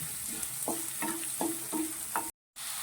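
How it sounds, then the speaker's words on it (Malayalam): Onions and dried red chillies sautéing in a pan, a close steady sizzle with four or five rhythmic spoon scrapes, then a short drop into silence before the sizzle resumes. "നമ്മളിതിലേക്ക് ഒരു മൂന്ന് ഉണക്കമുളകും കൂടി കീറി ഇടുവാണ് നന്നായിട്ട് വഴറ്റെടുക്കണം ഉള്ളി ഒന്ന് നന്നായിട്ട് വഴണ്ട് വരണം"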